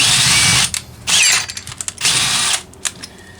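A power drill whines in several short bursts, starting and stopping repeatedly with clicks and rattles between runs; loud and close.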